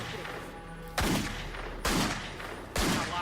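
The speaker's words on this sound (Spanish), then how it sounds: "Tomó una Magnum 357 y empezó a disparar al bosque." Three sharp, loud gunshots from a .357 Magnum revolver fired into woods, evenly spaced about a second apart, each with a short echoing decay over a low background hum.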